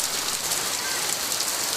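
Steady, dense monsoon rain pouring down in the Konkan region during Ganesh Chaturthi, a constant broadband hiss of heavy rainfall with no voices, continuous throughout.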